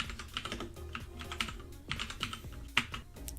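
Rapid, irregular keystrokes on a computer keyboard while Python code is entered, a busy clatter of clicks with a few sharper taps standing out.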